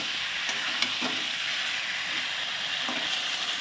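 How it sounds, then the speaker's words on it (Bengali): Chicken pieces frying in oil for a home-made curry, a steady close sizzle with occasional stirring scrapes, no talk. "মাংসটা এখন তেলের মধ্যে অল্প ভাজা হচ্ছে।"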